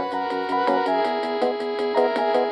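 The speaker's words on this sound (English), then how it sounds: "your home computer sounded like this" Bright, buzzy square-wave chiptune notes from a 1980s home computer sound chip play a quick, bouncy melody with a steady beat, thin and electronic.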